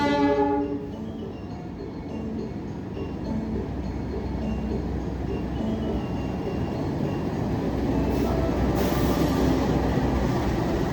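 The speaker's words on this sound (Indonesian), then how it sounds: "Untuk lokomotif yang berdinas pada malam hari ini kereta api Cakrabuana itu adalah lokomotif CC206" The Cakrabuana train with a CC206 locomotive sits at a station at night, giving off a continuous low rumbling engine drone with a brief horn-like tone at the start, steady and fairly loud.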